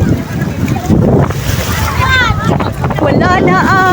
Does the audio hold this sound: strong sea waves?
yes